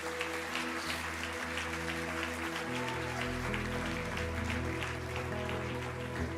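A church congregation claps steadily in a dense, sustained round of applause, heard over a held keyboard or organ backing during worship.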